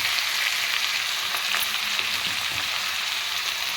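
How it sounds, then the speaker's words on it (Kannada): Ground masala gravy hits ridge gourd frying in oil for an Uttar Karnataka stuffed heerakayi dish, giving a steady, close crackling sizzle with a few stirring clicks and no talk. "ನಾವೇನು ಮಸಾಲೆ ರುಬ್ಕೊಂಡಿದ್ವಲ್ಲ ಆ ಗ್ರೇವಿ ಹಾಕ್ತಾಯಿದ್ದೀನಿ ಇದಕ್ಕೆ"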